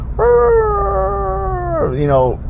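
A human voice imitates a dog's odd-sounding bark, drawing out one long, steady, howl-like tone for over a second. The tone ends with a short dip and a wavering yelp.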